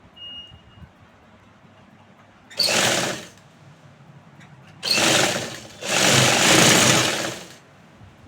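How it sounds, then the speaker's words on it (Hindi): A sewing machine stitches a seam on a suit in three distinct runs of steady mechanical whirring, with quiet pauses between runs and the last two runs close together. "इसके ऊपर 2 सिलाई लगा लेंगे।"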